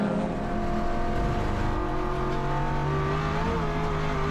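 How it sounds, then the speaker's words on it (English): A rebuilt VK Commodore race car oversteers on a circuit during a championship round, its engine droning loud and steady with a shifting pitch that suggests a slide, with no voices. "Big oversteer moment from Dan Ridley in the rebuilt VK Commodore, sending it on Michael Osmond."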